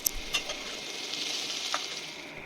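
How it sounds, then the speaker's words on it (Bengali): Cauliflower and potato pieces fry in a pan, giving a steady close sizzle with a few brief clinks and stirring scrapes on top. "এবার আমি আলুটাও ভেজে নিলাম"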